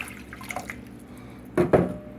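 Water splashes briefly into a saucepan in two short, close pours, setting up a pickle brine with vinegar and kosher or pickling salt, with quiet room noise before it.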